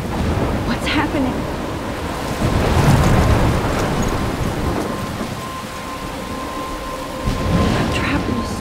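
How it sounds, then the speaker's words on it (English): Rolling thunder over steady heavy rain in the Life is Strange video game storm, a constant wet hiss with deep rumbles swelling mid-clip and again near the end, no talking. "I'm trapped in a storm?"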